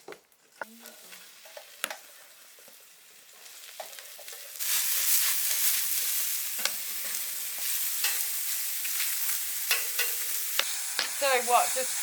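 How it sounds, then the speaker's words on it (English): Venison cooks over an open fire to go crispy, giving a faint sizzle that swells about halfway through into a steady, crackling hiss with scattered small clicks and scrapes. "there's only one way to cook venison, and that's over an open fire"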